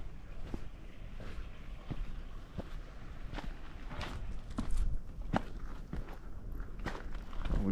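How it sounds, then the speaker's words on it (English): Footsteps of a hiker climbing a wooded trail, a steady series of crunching steps spaced about half a second apart, close by over light wind noise. "I think I hear a person coming up."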